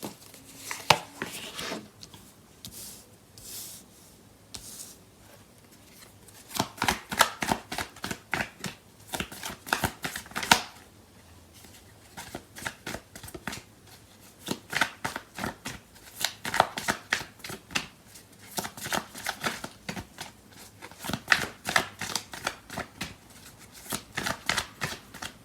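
Tarot cards are shuffled by hand in repeated bursts of crisp, papery riffling and flicking, close and clear, with short pauses between rounds and no talking.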